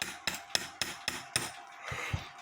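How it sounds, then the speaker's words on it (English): A hammer lightly taps a socket seated over a gear of a 1959 Sessions mantle clock, giving five evenly spaced sharp metallic taps followed by a couple of softer knocks, close and clear. "with a socket putting over that gear, taking my hammer and lightly tapping it"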